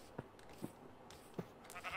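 Sheep in Minecraft bleat three times in short, separate calls spaced across two seconds, fairly close and clear over a soft ambient background with no talking.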